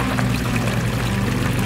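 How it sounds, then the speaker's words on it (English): Water flows steadily through a PVC drip watering system in a desert garden, making a continuous close pouring, trickling rush with no break and no talk. "everything's dripping perfectly on this set and everything like that."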